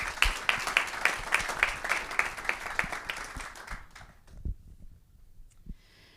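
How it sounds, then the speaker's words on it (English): A conference audience claps at a summit, a lively burst of applause that thins out and fades after about four seconds, leaving a few scattered claps and quiet room noise. "Let's give one more round of applause."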